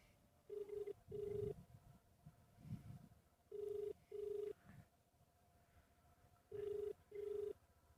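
An outgoing phone call rings and goes unanswered, with three pairs of faint electronic ring tones spaced evenly apart over a quiet, rustling background.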